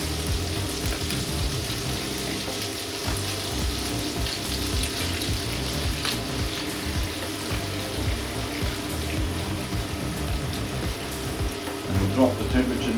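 Prawns sizzle steadily in a hot pan for Italian-style garlic prawns, a dense, continuous frying hiss and crackle that holds at an even level from start to finish.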